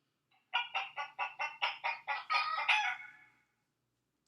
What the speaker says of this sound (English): A chicken.